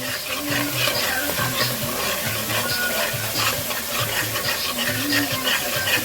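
Curry browns in sizzling oil under continuous, rhythmic stirring, with a loud, dense crackle and repeated scraping strokes close to the pan.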